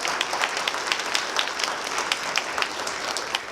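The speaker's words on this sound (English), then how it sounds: "Let's give all of our candidates another round of applause." A political forum audience gives candidates for state office a round of applause, dense steady clapping from many hands throughout, moderately loud and close, with no talking over it.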